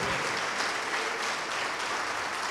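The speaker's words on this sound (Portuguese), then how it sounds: "Vamos aplaudir alto o nome de Jesus" A church congregation applauds loudly during a service, with dense, steady clapping filling the whole stretch and no clear voices above it.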